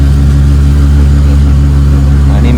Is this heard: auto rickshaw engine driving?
yes